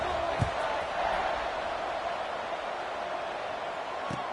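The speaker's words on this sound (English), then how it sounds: "this crowd is buzzing after that last score" Stadium crowd at a football game keeps up a steady, dense roar of buzzing voices after a score, with a couple of brief sharp bumps near the start and end.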